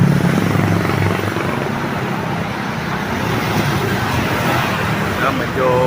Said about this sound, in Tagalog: May papalapag na naman aeroplano.